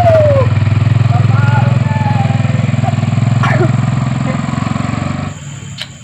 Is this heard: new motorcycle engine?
yes